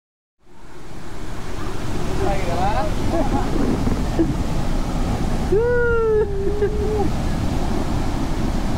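Magajahalli Abbi Falls flows strongly, giving a loud, steady, rushing roar that fills the whole clip, with a couple of brief bird calls rising above it.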